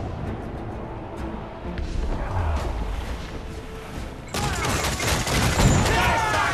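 Ship cannons booming in a naval skirmish in Assassin's Creed IV Black Flag, a volley of heavy blasts and crashes mixed with battle noise and shouting crew voices.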